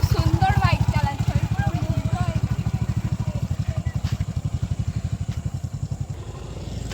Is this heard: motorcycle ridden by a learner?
yes